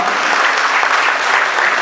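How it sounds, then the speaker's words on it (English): Audience applause at a scholarship awards ceremony, a dense, steady wash of many hands clapping together, loud and close, with no break and no talk over it. "let's give another round of applause"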